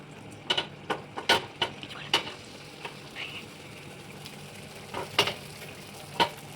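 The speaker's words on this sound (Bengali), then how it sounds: "তো এই যে ডিমটা আমি ভাজা বসিয়ে দিয়েছি," An egg frying in a pan gives a quiet background sizzle with a series of sharp spatters and pops scattered irregularly through the clip.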